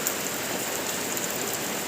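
Heavy rain pours down in a dense, steady hiss with no pauses, close and loud, with no voices over it.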